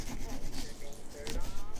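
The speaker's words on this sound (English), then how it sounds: "What does the sawing sound like to you guys?" Saw cutting into a pumpkin gourd, a close rasping back-and-forth scrape repeating in short strokes, with faint speech audible underneath.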